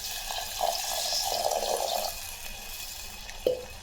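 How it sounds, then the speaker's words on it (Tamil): Water poured into a pan of cooked masala for a Tamil brinjal and potato kadaiyal, a steady splashing trickle for about two seconds, close and moderately loud, ending with a brief clink. "இப்போ கொஞ்சமாக தண்ணி சேர்த்துக்கலாம்"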